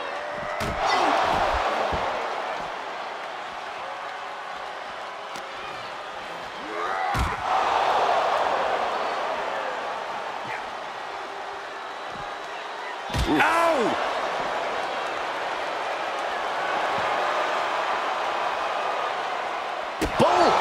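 Heavy body slams on the mat in a WWE 2K24 video game match between Randy Orton and Triple H: four sharp, loud impacts spaced several seconds apart, over crowd noise and commentators talking.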